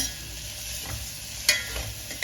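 Sliced onions are stirred and sautéed in a pan for a green pigeon pea masala curry, a faint low sizzle with a few soft scraping stirs and one sharper clack of the spoon.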